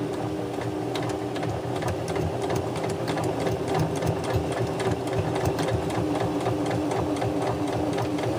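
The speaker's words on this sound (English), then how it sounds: "We're going to do a straight stitch, and I do at 2 1/2." A sewing machine runs a straight stitch through valance fabric with a steady, fast mechanical chatter. The rhythmic clatter sounds close and continuous, and no one speaks.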